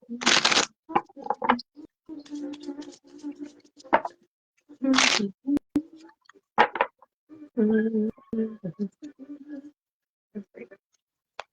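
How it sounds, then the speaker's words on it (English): Tarot cards shuffled by hand in a few bursts of crisp riffling and flicking, close and moderately loud, separated by quiet gaps while someone talks between them. "I'm currently shuffling these for you"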